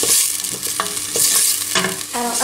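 Onion and garlic sizzle loudly in a pan, a dense close hiss broken by repeated scraping stirs and clatters of a utensil against the metal.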